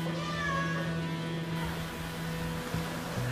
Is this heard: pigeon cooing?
no